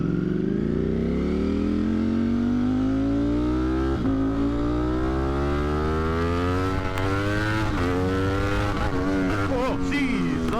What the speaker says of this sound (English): I'm just trying to get the bike all warmed up so we can actually do some higher RPM pulls